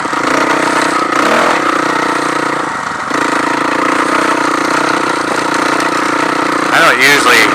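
Three motorcycle engines drone steadily at close range behind a quad on a dusty trail, with a brief dip midway and a rough revving surge near the end.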